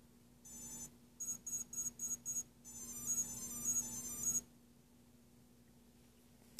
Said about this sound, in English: every once in a while I listen in and just make sure I've got the right number of beeps going